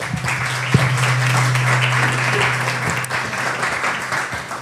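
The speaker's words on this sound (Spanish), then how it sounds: "un aplauso para las dos, por favor" Audience applause welcoming two women, one to present a project and one to translate, at a community arts event; steady broadband clapping from a crowd that fills the room for several seconds and then thins out.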